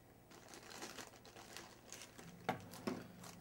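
Small plastic parcel bag crinkling as it is handled, soft rustling throughout with two sharper crackles near the end, close and quiet with no talking.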